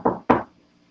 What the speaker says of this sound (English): I'm going to knock on this refrigerator.